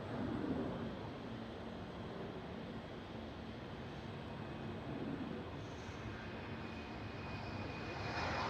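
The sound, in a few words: British Airways airliner approaching Schiphol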